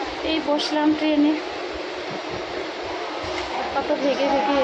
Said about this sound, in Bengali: এই বসলাম ট্রেনে,